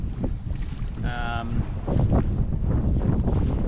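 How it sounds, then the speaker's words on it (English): Stiff wind roars steadily across the microphone while sailing solo on Lake Ontario, a loud broadband rush with a brief tonal whine partway through and a faint voice underneath. "Wind is stiff."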